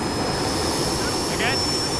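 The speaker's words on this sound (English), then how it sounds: "sound levels are now comparable to a commercial jet." A jet engine running inside a shed roars as a constant loud, broad rushing noise with a steady high whine on top, continuous and unbroken throughout.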